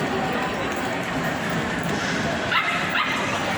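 Dogs at a crowded mall dog festival bark and yip, with two quick high yips standing out near the end over a steady, loud hubbub of voices and crowd noise.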